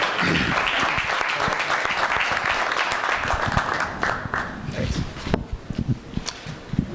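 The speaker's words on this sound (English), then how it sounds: "So we have a round of applause for David." Applause from a lecture audience at a talk on greenway development and regional bike paths, steady dense clapping for several seconds that thins into scattered individual claps toward the end.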